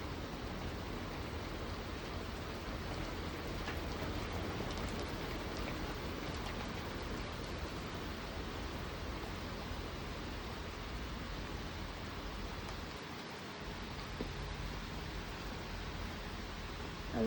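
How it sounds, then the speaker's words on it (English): Heavy rain from a thunderstorm with pea-sized hail, heard as a dense, continuous hiss of drops pounding a surface, steady and unbroken throughout, with no voices. "there's the rain."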